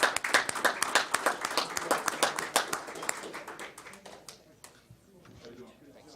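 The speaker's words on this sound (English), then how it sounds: "Another round of applause." An audience at a school board work session gives coaches a round of applause: brisk, fairly close clapping from a modest group, fading out after about four seconds into quiet room noise.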